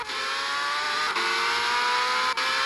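Formula 1 car at the Singapore Grand Prix in a racing game, its engine screaming at high revs in a loud, steady whine with two quick gear-change dips.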